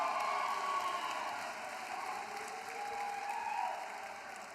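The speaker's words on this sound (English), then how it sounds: "Let's give a big round of applause" Sustained audience applause fills a banquet hall at a university athletics awards night, steady clapping from a large crowd holding for several seconds with no speech over it.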